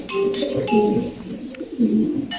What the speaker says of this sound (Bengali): দেখেন দর্শক কবুতরের ডাক